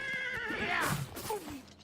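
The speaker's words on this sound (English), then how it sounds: "Wait, is he killing my horse?" A horse in the video game Oblivion gives a loud, close, wavering whinny that rises and trails off, with a few hoof thuds beneath it.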